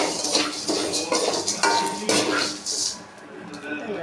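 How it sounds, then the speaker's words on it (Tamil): A utensil scraping and clinking against a pan while ingredients roast, with repeated stirring strokes in an uneven rhythm, close and fairly loud. "நல்லா வறுபட்டுருச்சு பாருங்கள், எப்படி வறுபட்டுருக்குன்னு"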